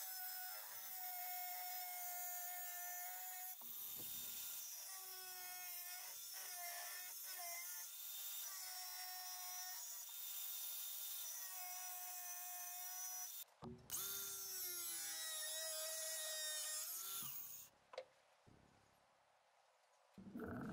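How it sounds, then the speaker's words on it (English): An angle grinder cuts a steel blank for a drop point hunting knife, giving a loud, steady high-pitched whine with harmonics that runs almost continuously, with short breaks and changes in pitch near the end. "I cut it out with an angle grinder."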